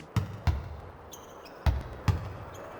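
Four hollow basketball bounces thump in an uneven rhythm on the court in the NBA Live 99 video game, close and clear, with faint high shoe squeaks between them and no talking.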